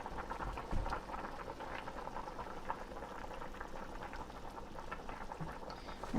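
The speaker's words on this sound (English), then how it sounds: "it's going to simmer now for 15 minutes" A pot of food simmering on a stove, a quiet steady bubbling and popping that carries on evenly for several seconds, close by but faint, with no talking.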